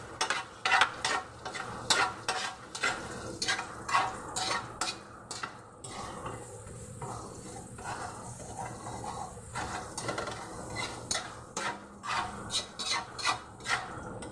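Garlic going into a pan at the start of a spaghetti sauce, heard as a steady run of rhythmic spatula scrapes and rasps against the pan over a low background sizzle, briefly easing off midway.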